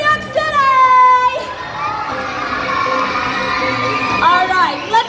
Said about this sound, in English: Make some noise, New York City!